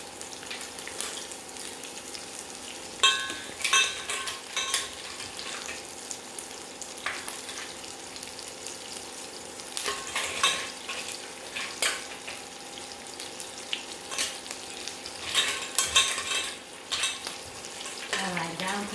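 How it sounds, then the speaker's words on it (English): Shallots fry in a pan for a mussels curry with a continuous sizzle, broken by repeated scraping and stirring knocks of a utensil against the pan throughout, nearby with no speech. "I'm going to add some of my shallots and get the rest in soon."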